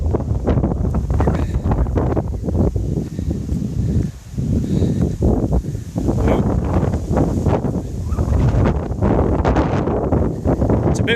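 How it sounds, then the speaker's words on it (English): Wind buffets the microphone during a countryside walk on the Highfield Grange loop in Winstanley, a loud, continuous rumble with gusty surges that dips briefly around the middle. "It's a bit windy, Sylvia, so bear with us."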